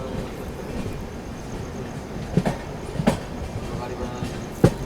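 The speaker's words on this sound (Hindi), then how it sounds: "ट्रेन तो अपनी निकल चुकी है फिलहाल जो है जलगांव से।" A Duronto Express passenger train rolls along after leaving Jalgaon, a low continuous rumble with a few sharp clacks of wheels over rail joints, heard from inside the coach at moderate loudness.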